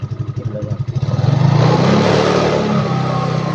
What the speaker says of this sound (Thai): แล้วเดี๋ยวครูจะให้เร่งเครื่องนะครับ